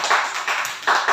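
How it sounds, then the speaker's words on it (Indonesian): An audience claps hands at an Indonesian individual mentoring session: a short burst of brisk clapping, fairly close, ending in a few louder claps. "tepuk tangan dulu ya"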